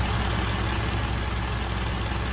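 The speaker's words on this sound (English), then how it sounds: "turn off this engine" A truck engine runs steadily during a vehicle recovery rope test, a continuous low rumble that stays loud and even throughout with no talking.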